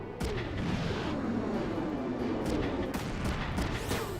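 A rapid chain of missiles fired in FM3, a mission-based video game, forming a dense continuous rumble of launches and blasts with sharp cracks on top, loud and sustained with no talk.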